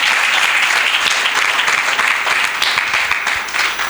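Sustained audience applause for the best debater at a school debate quarter-final between two Senegalese lycées, a broad, steady wash of many hands clapping with no voices over it.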